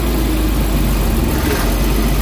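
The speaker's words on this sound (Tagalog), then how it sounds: "Pakinggan nyo mabuti yung under ng makina, buksan natin aircon." A Suzuki Big Eye DA64 engine idles with the air conditioning switched on, a loud, steady, close drone with a low rumble and no talk over it.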